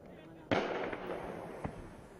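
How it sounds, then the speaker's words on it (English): A single sharp report of sporadic gunfire in the city of Donetsk, eastern Ukraine, cracks and echoes, followed by a fainter second shot, with a news voice speaking over it. "Sporadic gunfire echoed across various parts of the city"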